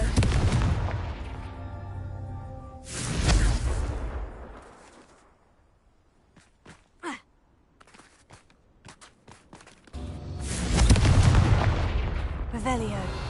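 Confringo fire spells cast in Hogwarts Legacy, heard as loud booming blasts with long rumbling tails, one early and another near the end, with quieter footsteps and small clicks between them.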